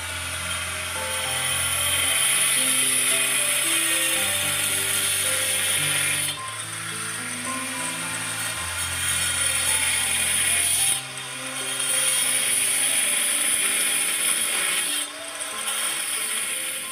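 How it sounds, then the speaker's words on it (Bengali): A cutting machine slicing into a brick wall to make channels for concealed wiring, a loud continuous grinding whine with shifting pitch and brief pauses as the blade is repositioned, no talk. "চলুন দেখাই কনসিল ওয়্যারিং করতে গেলে কিভাবে দেয়াল কাটা হয়"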